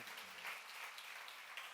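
A church congregation claps together during a sermon, a brief, steady wash of applause heard at a distance and fairly faint.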